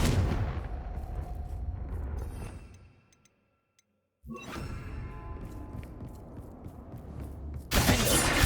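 The Confringo blasting curse in Hogwarts Legacy, a crackling burst of fiery spell energy that cuts off into near silence, then returns as a sharp blast with rattling debris and a second loud surge at the end.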